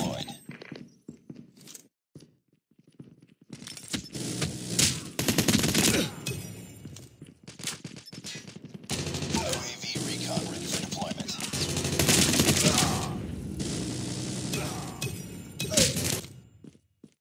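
A deployed sentry gun fires in Call of Duty: Mobile, with rapid bursts of automatic gunfire in several loud stretches, mixed with footsteps, crunching battle noise and game voice callouts.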